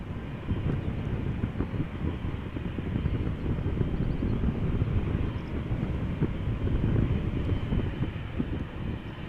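A United Boeing 777 jet approaches Amsterdam Schiphol with a low, rumbling engine drone that holds steady at moderate loudness, mixed with some wind buffeting.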